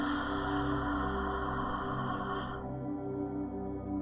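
An ujjayi yoga exhale pushed through a constricted throat gives a steady, breathy rasp for about two and a half seconds, then stops, with a faint tonal background continuing underneath.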